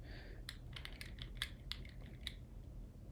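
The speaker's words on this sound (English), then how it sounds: "What is happening with my keyboard here?" Keys clacking on a computer keyboard while someone types code, an irregular run of close, crisp keystrokes over a low steady hum, with no talking.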